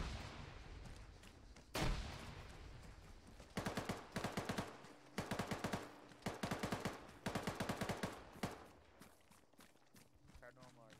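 Automatic gunfire in the military video game Arma 3, with several loud rapid bursts of shots and an earlier single heavy blast, while voices talk intermittently.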